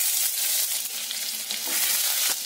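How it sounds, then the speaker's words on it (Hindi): Finely chopped ginger, green chili and aromatics sauté in a pan over a medium-high flame, a loud, continuous hiss and crackle with a couple of brief stirring scrapes and no voices. "ये तीनों चीज हम अभी डालेंगे एक साथ और इसको हमें 30 सेकंड तक भूनना है मीडियम टू हाई फ्लेम पर"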